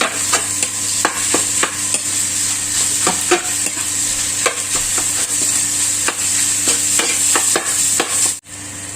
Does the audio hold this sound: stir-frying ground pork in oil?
yes